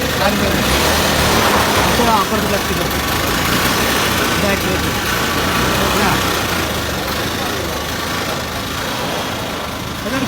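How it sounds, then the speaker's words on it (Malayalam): Homemade jeep engine running steadily after starting, a loud, constant idling drone with light mechanical rattle throughout. "ഫസ്റ്റ് സ്റ്റാർട്ട് ചെയ്തിട്ട് എങ്ങനെ എടുക്കുന്നത് നോക്കിയോ"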